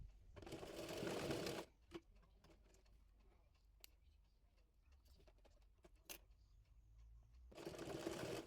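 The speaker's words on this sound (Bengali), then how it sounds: "একইভাবে অপর পাশের বডি পার্টের সঙ্গেও ফিতাটি সেলাই করে নেব।" A sewing machine stitches a ribbon strip onto the body piece of a baby girl's frock, with two loud steady bursts of motor whirring at the start and end and quieter ticks and clicks between them.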